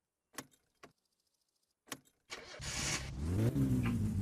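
In the video game My Summer Car, a car engine that keeps stalling is restarted: a few sharp clicks and a short pause, then the engine cranks and catches into a loud, steady idle, with no talk.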